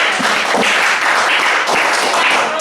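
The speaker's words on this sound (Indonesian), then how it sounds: "Iya, berikan aplaus" Audience applause for a group of student presenters at a classroom practical session, a steady dense wash of clapping that stays loud and continuous from start to finish, with no talking over it.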